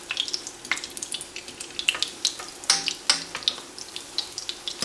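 Battered cauliflower crackles and sizzles in a frying pan after being flipped, with light irregular pops and scraping from small utensils, close and fairly quiet.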